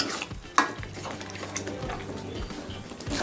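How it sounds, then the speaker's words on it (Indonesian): Bolognese sauce being stirred in a pan makes repeated scraping and clinking of a utensil against the metal, with a soft bubbling simmer beneath, close up and without speech. "ini sausnya harus terus diaduk ya"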